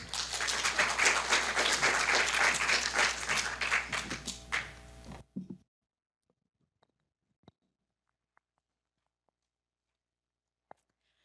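An audience at the Portland Convention Center applauds for about five seconds before an animal rights talk. The clapping is steady and full, then cuts off into near silence broken by a few faint taps.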